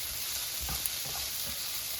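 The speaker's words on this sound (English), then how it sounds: "now it's fully heated and sizzling, so I'm going to reduce the heat to medium high and mix the chicken hearts" Steady sizzling of chicken hearts frying in a hot pan over medium-high heat, a constant crackling hiss with occasional stirring clinks, no voices.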